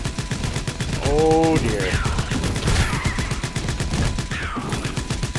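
Rapid, continuous automatic gunfire from the DieselStormers video game rattles in a fast, even rhythm of shots. Someone briefly speaks over the barrage.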